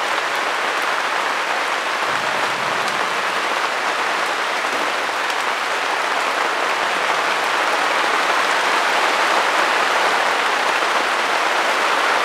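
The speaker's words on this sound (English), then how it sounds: "It had to rain." Steady rain falls outdoors, a dense, even hiss that holds at the same loudness for about twelve seconds with no voices.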